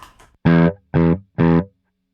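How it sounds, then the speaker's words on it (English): Three short clean electric guitar chords with no effects, struck one after another with brief silences between, each cutting off quickly with no trailing echo. "This is the guitar without anything."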